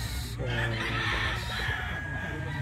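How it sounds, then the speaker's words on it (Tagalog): A gray balbasarado gamefowl rooster crows at a farm, one drawn-out call heard close and clear against a steady background of other fowl sounds. "Mga boss ay isang balbasarado na gray di Santa Claus."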